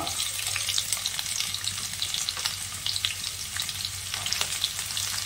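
Onion sizzles and fries in a pan with ginger for an egg curry, a steady crackling hiss with light stirring and no voices.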